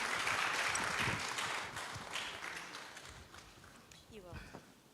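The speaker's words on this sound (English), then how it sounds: "With a round of applause" An audience at an international climate-resilience conference gives a keynote speaker a round of applause, the clapping loud at first, then thinning and fading, with some voices and footsteps mixed in.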